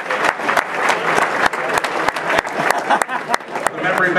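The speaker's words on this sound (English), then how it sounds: "Let's give him another nice round of applause." A dinner crowd at a big game charity auction applauds the winning bidder, a close, lively round of clapping with a few sharp individual claps standing out and voices murmuring underneath.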